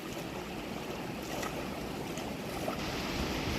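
Continuous rushing water fills the scene, a dense steady wash of a creek flowing close by on a Continental Divide trail between Silver City and the Gila River, with no voices.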